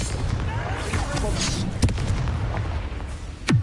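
A Confringo spell blast in the Hogwarts Legacy video game, heavy booming explosive bursts amid rumbling combat noise, with a sharp crack near the end and a voice calling out over the action.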